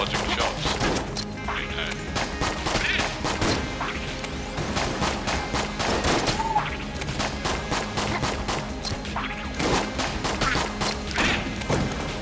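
Dense, constant volleys of gunfire in the game Enter the Gungeon, mixed with thuds, crashes and impact hits in fast irregular bursts during a boss fight.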